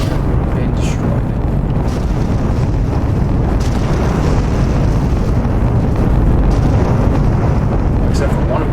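Spaceships being blown apart in the space game Endless Sky, a continuous loud roaring rumble of explosions with a few sharper bursts, dense and close throughout.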